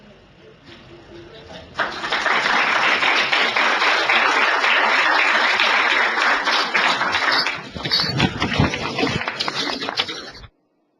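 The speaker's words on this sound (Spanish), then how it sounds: "Pueden aplaudir." An audience at a Spanish-language rights event applauds, a dense, steady wash of clapping that swells in, holds for several seconds and thins out before stopping.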